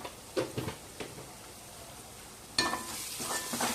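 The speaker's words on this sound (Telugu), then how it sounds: "కారం వేసి నూనెలో కొద్దిసేపే తిప్పుకొని 1 నిమిషం ఇలా తిప్పుకున్నాక చింతపండు రసం వేసేసుకోవాలి." Chili powder stirred in hot oil for a fish curry, a faint sizzle with a few soft stirring scrapes that swells into louder frying near the end, close and quiet.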